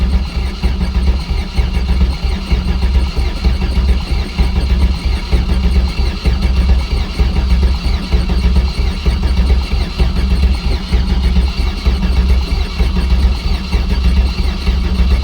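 An LS V8 engine swapped into a Miata cranks steadily on its starter with low battery voltage, a loud, continuous rhythmic churning that runs unbroken throughout without catching.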